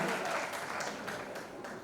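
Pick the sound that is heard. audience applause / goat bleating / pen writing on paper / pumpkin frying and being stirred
audience applause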